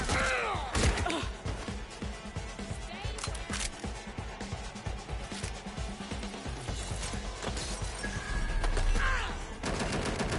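Rapid bursts of gunfire from the Watch Dogs Legion video game, in dense crackling volleys with mechanical clicks, loud and continuous, easing briefly near the end.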